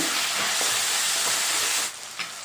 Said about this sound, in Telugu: ఈ 5 పచ్చిమిర్చి కూడా వేసి ఫ్రై చేసుకుందామండి.